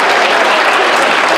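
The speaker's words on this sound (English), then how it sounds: "Give Claire a big round of applause." Audience applause at a school Transition Year variety show in Enniscorthy, a steady dense wash of clapping from the crowd, close and loud throughout with no talk over it.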